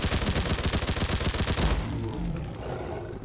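A fully automatic, fully upgraded PPS-43 submachine gun in a modded Fallout 4 video game fires a rapid, even burst of loud close shots for nearly two seconds, then stops and leaves a fading echoing tail.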